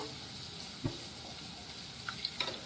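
Vertically sliced onion sautéing in a pan for prawn biryani, a faint steady sizzle with a soft stirring knock and a few light clicks, close and quiet.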